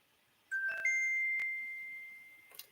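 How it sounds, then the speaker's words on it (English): A phone ringtone chime sounds alone in a quiet room, a short melodic series of bright tones that start abruptly, linger and fade, then a faint final tinkle. "Still learning all these dang ringtones."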